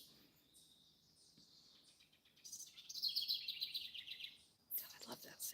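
Birds chirp and tweet in quick, high trills, growing busier midway, with a sharp burst near the end over a faint background hum.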